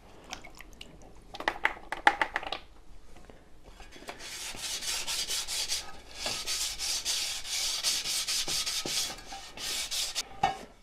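A car wheel rim is hand-sanded all around with 320-grit abrasive, close rubbing strokes in irregular bursts that build into a quick steady rhythm, with no talk.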